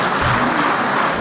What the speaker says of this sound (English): Another round of applause for my panelists,